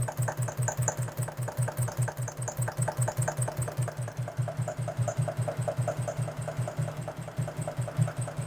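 CFR octane test engine idling steadily in a lab, a loud, even rhythmic single-cylinder chug with regular knocking pulses that continue throughout, close and alone.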